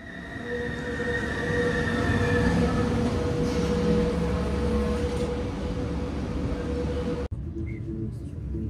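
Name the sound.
Swiss train arriving at the platform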